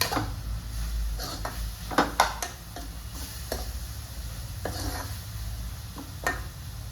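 Homemade sambar masala being stirred into a cooking pot, giving a few soft scraping strokes and light clinks over a low sizzle, close and fairly quiet, with no talking.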